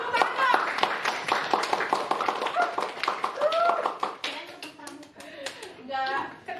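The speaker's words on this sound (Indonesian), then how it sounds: "ibu pengen dengar tepuk tangan kalian semua" Students in a classroom clap their hands together in a quick, uneven patter, close and fairly loud, while children's voices chatter and call out over the claps.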